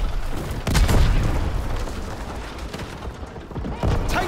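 Heavy booms and mechanical clanking around an advancing tank in Call of Duty WW2, with battlefield gunfire and explosions rolling through a loud, dense mix.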